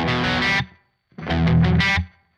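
Kemper guitar amp with its gain turned up, playing two loud, heavily distorted chord phrases with a short silent gap between them and a quick fade after each.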